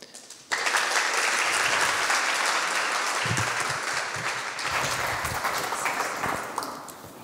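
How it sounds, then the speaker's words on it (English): Applause erupts suddenly from an audience at a collection opening at Erasmus University College in Rotterdam, welcoming the next guest, then continues as a full, steady wash of clapping before tapering off at the end. "let's please welcome our next guest with a big round of applause."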